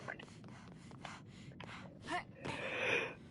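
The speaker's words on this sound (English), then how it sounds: "Oh, I'm gonna sneeze." A single person's sneeze bursting out after a few breathy intakes, close and fairly quiet, with faint indoor background and no talk over it.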